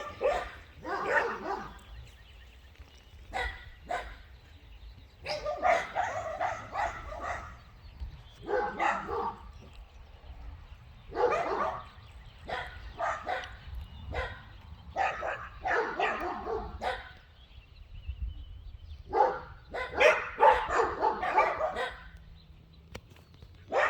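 A neighbor's dog barks from behind a fence, giving repeated bursts of barking and yips in irregular clusters across the whole stretch, moderately close, over a low steady background hum.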